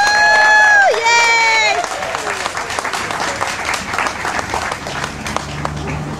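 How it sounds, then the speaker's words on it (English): Children's voices sing out loudly at first, then a crowd breaks into applause and cheering for the young singers at a hotel gathering, with clapping continuing throughout and a few shouts mixed in. "Please give them another round of applause."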